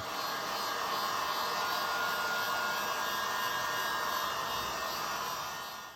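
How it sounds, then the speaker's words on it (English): Heat gun blowing hot air to cure screen print ink in a home studio, a steady close whooshing hiss of even loudness running throughout, fading at the end, with no voices. "I'm going to cure it now with my heat gun"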